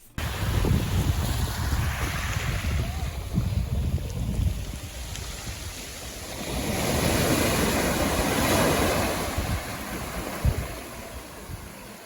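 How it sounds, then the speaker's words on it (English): Ocean waves wash onto a Cornish beach at Lantic Bay, a steady surf roar that swells midway, with gusty wind buffeting the microphone throughout and no voices. "I could have sat on the beach and watched the waves all day"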